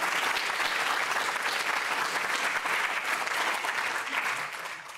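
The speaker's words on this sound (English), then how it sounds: "round of applause for them." Audience at a university neuroscience public lecture breaks into sustained applause, a dense steady clapping that holds for several seconds before tapering off.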